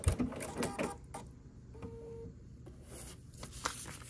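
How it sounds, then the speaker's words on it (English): Quiet short runs of a sewing machine back stitching a foundation paper pieced star quilt block, a few brief bursts and faint clicks, near and without talk. "back stitch at the end again"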